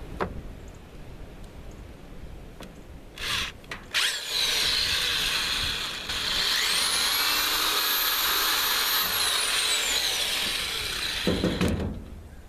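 A power drill on a Ford Escape bottom engine cover: brief clicks and short bursts, then two long sustained whirring runs of the motor as the bit bores through, close and loud with no talking.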